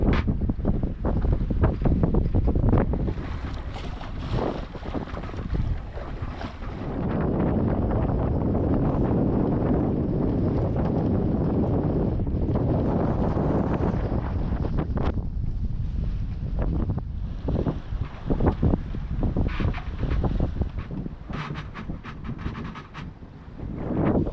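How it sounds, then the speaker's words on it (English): Strong wind buffets the microphone in steady gusts, a loud roaring rush that rises and falls with no voices. "It's windy."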